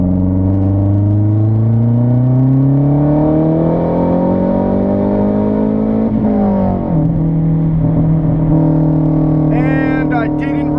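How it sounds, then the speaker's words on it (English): A Mazdaspeed 3 engine pulls hard at wide-open throttle in third gear from about 3000 to 6500 RPM, its droning note climbing steadily and loudly, then dropping abruptly at the shift or lift-off, with a voice near the end. "Third gear, 3000 RPM to 6500."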